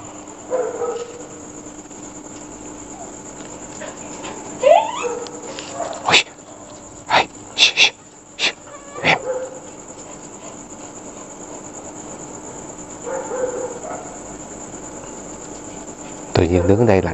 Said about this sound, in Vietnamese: Giờ này á, là chó sủa liên tục,